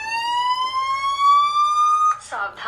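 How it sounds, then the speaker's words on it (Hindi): A phone anti-theft app alarm going off, a loud, steady electronic tone rising slowly in pitch, then cut short by a brief warbling burst. "जैसे ही हमने इसे सेंड करा है ये इस तरीके से पूरा अलार्म करने लग गया है।"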